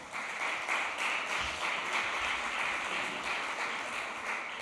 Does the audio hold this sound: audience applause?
yes